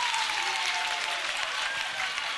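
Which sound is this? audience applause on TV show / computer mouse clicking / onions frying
audience applause on TV show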